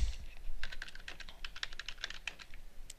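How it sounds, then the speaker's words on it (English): Keys clack in a quick, irregular run on a computer keyboard as a web address is typed, close and clear with no talking. "you want to type in your address"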